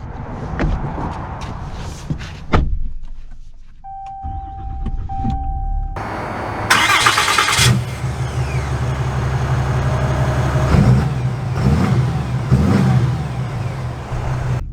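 2023 Ram 2500 Laramie Night Edition Mega Cab with Cummins diesel starting up and pulling away, a brief whir and cranking followed by a loud, steady low diesel rumble heard from inside the cab.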